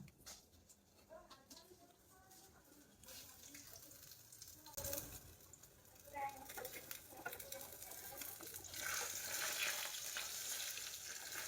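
Fish frying in a pan, a steady sizzle that grows louder and denser toward the end, with scraping and stirring and a voice talking over it.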